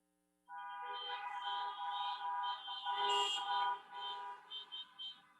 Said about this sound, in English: Let's have a huge round of honks for Consul General Thomas Schulze.